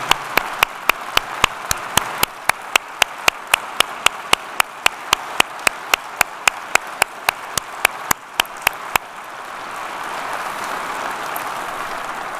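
Applause at a police department awards ceremony, sharp regular claps ringing out one after another for most of the stretch, then fading into a softer diffuse wash of clapping and crowd noise.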